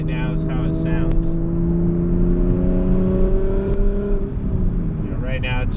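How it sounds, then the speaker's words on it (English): A turbocharged 2JZ engine in a Lexus IS300 with a three-inch straight-pipe exhaust holds a loud, steady drone with a tonal hum. A faint voice is heard at the start and again near the end. "right now it's just a 3-inch straight pipe, so it's pretty much all just lovely 2J sounds back"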